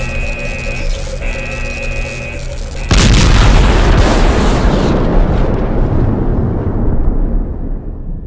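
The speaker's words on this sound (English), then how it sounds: "This thing is going to explode." An overcharged energy core explodes in Last Days of Lazarus, as a steady mechanical hum is cut off by one loud, sudden boom that rumbles and roars for several seconds before slowly dying away.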